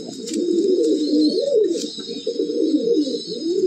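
A male pigeon coos loudly and close, in rolling repeated calls with no voices.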